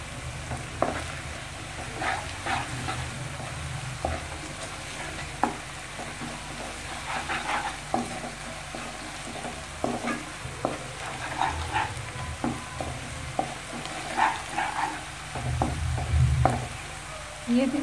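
Chicken tikka macaroni ingredients fry and brown in a pan with a steady sizzle, broken by repeated scraping stir strokes and low rumbling bursts, close and moderately loud, with no talking.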